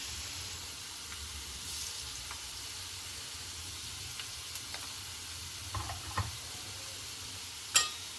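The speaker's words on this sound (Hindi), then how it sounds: "देखियो हम 2 मिनट एकरा भूज देलिए हैं बढ़िया से चला चला कर।" Potatoes fry in a pan with a soft, continuous sizzle, broken by a few light scrapes and clinks of stirring toward the end, close and quiet with no voices.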